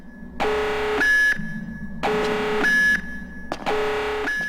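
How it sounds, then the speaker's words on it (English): An alarm sounds in the video game Perfect Dark, loud electronic beeping tones repeating in three even pulses with short gaps between them, over a low game hum. "Ah, shit, an alarm"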